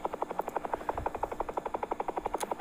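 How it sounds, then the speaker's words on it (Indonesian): A helicopter in a shape-shifting game sounds close and steady, its rotor chopping in a fast, even pulse of about ten beats per second, with no talking over it. "Helikopter."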